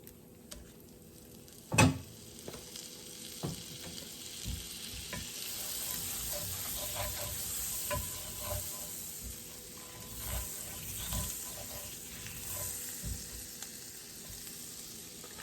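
Butter sizzles steadily in a frying pan for Cajun-style shrimp and grits, close and continuous, broken by a sharp clank early on and repeated scraping stirs of a utensil against the pan.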